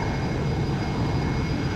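Airplane engine in a flight video game, a constant loud droning hum with no change across the short stretch and no talking.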